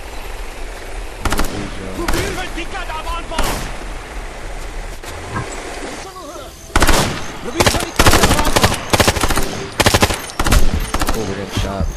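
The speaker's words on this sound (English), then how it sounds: "Oh, we're getting shot from over here. And we are getting shot." Automatic gunfire aimed at players in the shooter Ghost Recon Future Soldier: scattered shots at first, then rapid, loud, close bursts in the second half, with someone talking over the shooting.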